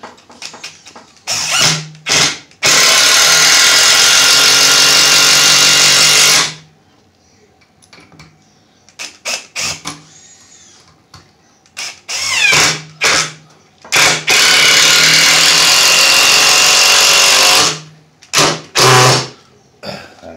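A Black & Decker cordless impact driver whirs in loud bursts, two long runs and several short pulses, with quiet pauses between them.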